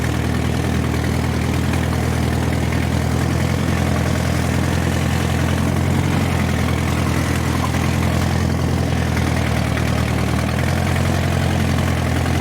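A tractor engine runs steadily on a narrow woodland trail during firewood work, a loud, close, low droning rumble that holds constant throughout with no voices.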